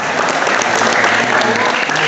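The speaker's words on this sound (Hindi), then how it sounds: "लिए एक बार जोरदार तालियां हो" Loud, dense applause from a crowd honoring a medal-winning wrestler at an akhada ceremony in Sadabad, continuous clapping close by with a voice faintly beneath.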